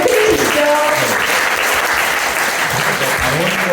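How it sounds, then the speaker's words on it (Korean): Applause from party members at a Korean political party's regional members' meeting in Daegu, loud and sustained, with some brief voice-like tones and murmurs mixed in near the start. "박수 한번 드려주시죠"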